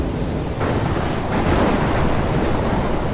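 A thunderstorm with heavy rain in the video game Life is Strange, a steady dense roar of downpour with rumbling thunder swelling midway, loud and continuous with no talking.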